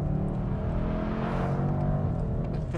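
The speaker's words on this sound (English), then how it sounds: "Third gear, down to second, lightning fast. Listen to these shifts." A 2019 BMW M850i with its ZF 8-speed automatic drops quickly from third to second, the engine note rising and swelling in a close, steady drone with a brief flare of revs midway.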